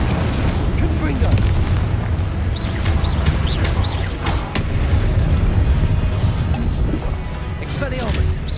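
Confringo explosive spell blasts in Hogwarts Legacy boom heavily and repeatedly in a loud rumbling barrage, with crackling bursts layered on top and a voice speaking amid the explosions.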